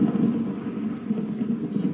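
Steady rain pours down in a Minecraft game world, a continuous broadband hiss with a low rumbling undertone, moderately loud and unbroken, with no voices.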